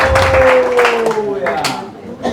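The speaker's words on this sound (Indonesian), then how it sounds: "Berikan sorak-sorai buat Tuhan yang dahsyat." A church congregation at a worship gathering claps and cheers, bursts of applause and shouting mixed with a sustained singing or musical tone and a speaking voice.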